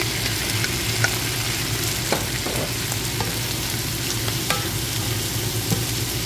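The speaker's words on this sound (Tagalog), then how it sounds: "At ilagay na rin natin ang gulay natin guys." Shrimp and vegetables stir-fry in a pan for pancit canton, giving a steady close sizzle with scattered clicks and stirring scrapes and no talking.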